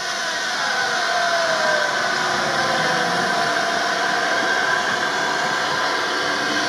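An off-road vehicle engine runs in low range as it drives through cold water. It gives a continuous, even drone with a faint whine layered on top and steady rushing noise, with no voices over it.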